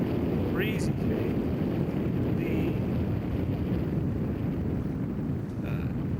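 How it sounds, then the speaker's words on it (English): Breezy wind sweeping over a river diversion dike on the Santa Clara River, a steady broadband rush buffeting the microphone throughout with no pauses. A few faint high chirps sit in the background. "And panning around, we'll see breezy today."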